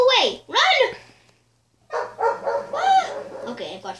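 Dog barks from a video game, two quick arching yelps then a busier burst of barking and yips, loud and close, with a player talking over parts of it.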